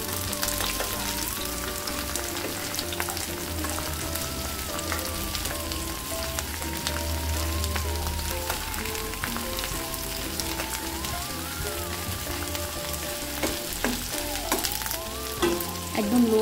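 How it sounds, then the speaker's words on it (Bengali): Onions and garlic fry on low heat in a pan and are stirred now and then, a soft continuous sizzle with occasional scrapes, heard under steady background music. "সব কিছু নেড়ে চেড়ে দেবো যাতে করে পুড়ে না যায়।"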